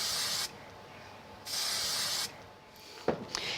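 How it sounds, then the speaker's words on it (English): Spray glue hisses from an aerosol can onto a die-cut paper poinsettia for a framed circle card, in two steady bursts of about a second each, close and fairly loud, followed by quieter handling noises. "put a little bit of spray glue on that"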